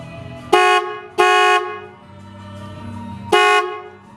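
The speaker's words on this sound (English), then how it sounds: "I connected both horns together. The original horn still worked. Let's test it out." Paired dual-note horns on a 1982 Chevy P30 Grumman Olson step van honk three times, two quick blasts then a third after a pause, loud and close over a low idle.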